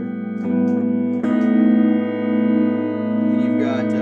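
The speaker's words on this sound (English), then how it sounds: "a fully diminished 7th chord sounds like this" A fully diminished seventh chord rings out as a sustained, tense chord, struck twice early on and left to hold and resonate loudly for several seconds.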